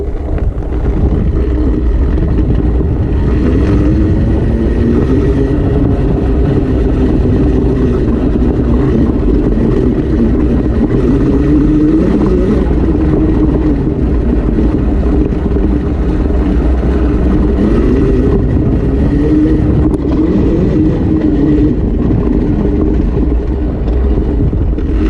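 An electric dirt bike ridden off-road during a range test, with a steady, loud rush of wind buffeting the microphone and a faint whining drive over rough terrain throughout, no voices.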